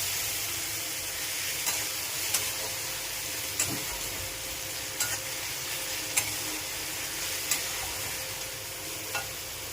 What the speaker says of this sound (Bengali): এখানে পেঁয়াজটা, টমেটোটা ভাজা ভাজা হচ্ছে